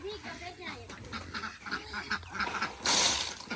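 Ducks quack and honk in short, close bursts, mixed with people talking throughout.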